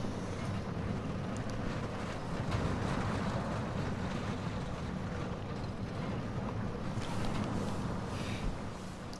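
A small family roller coaster named Whirlwind in the park-building game Planet Coaster gives a continuous loud rumbling roar for the whole ride, with no talking.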